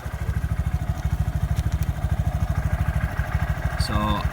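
A 2018 Honda Grom motorcycle idles in neutral with a quick, even low-pitched putter, close and steady, with a brief metallic squeal near the end.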